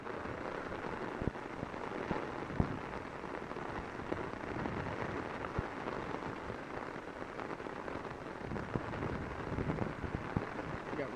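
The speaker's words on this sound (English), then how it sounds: "You hear my umbrella just pounding on my umbrella." Torrential flash-flood rain on Long Island drums steadily on an umbrella overhead, a dense, continuous patter with occasional louder drop hits.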